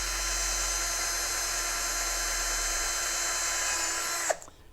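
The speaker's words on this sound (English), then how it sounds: "I have a reversible drill here" A reversible power drill whines steadily at high speed while boring into a 2017 Aprilia Tuono motorcycle's front fascia, loud and close, then stops abruptly near the end.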